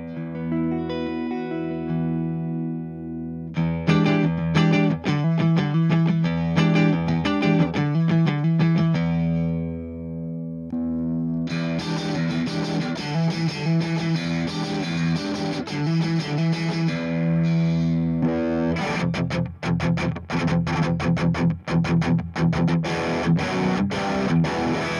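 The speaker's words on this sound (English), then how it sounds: "this is the Ibanez Paul Gilbert signature pick" Electric guitar picked with an Ibanez Paul Gilbert signature pick, first clean then heavily distorted with effects, sustained chords and fast picked runs ringing loud and alone throughout.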